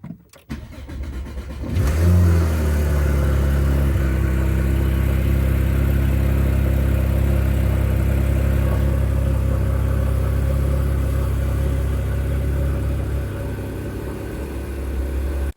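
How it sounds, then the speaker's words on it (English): A Porsche 911 GT3 fires up with a brief starter whir, then its engine settles into a loud, close, steady high-revving drone that holds for over ten seconds before easing slightly toward the end, with no talk. "I've never heard a car that sounds so amazing."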